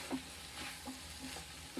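Quiet sizzling of bitter gourd frying in a pan with lentil powder, with soft scraping strokes of a spoon stirring it a few times.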